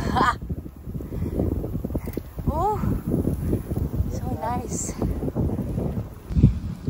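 Gusty wind sweeps across the Sierra Madre mountains near Pililia, Rizal, a close, choppy low roar against the microphone that continues beneath short exclamations from a speaker.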